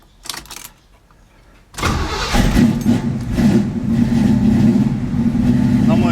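A 1957 Chevy carbureted engine cranks briefly, then catches and starts, settling into a loud, rough idle with a slight rise in revs, heard up close.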